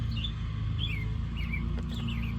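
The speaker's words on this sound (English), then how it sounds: "these birds are chirping very, very loudly" Several bright, short bird chirps repeat every half second or so over a loud, steady engine drone like a lawn mower nearby.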